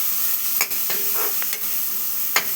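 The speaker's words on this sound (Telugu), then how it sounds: "కొంచెము క్యారెట్స్ ఇలాగా ఫ్రై అవ్వాలి" Grated carrots for carrot burfi frying in a pan, a soft steady sizzle with a few brief scraping stirs of a spoon, close and moderately quiet, with no talking.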